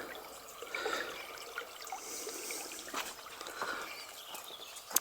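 Water trickles and flows softly along a newly made garden stream laid through an old pond bed, a faint, steady babble with small splashy accents and no voices.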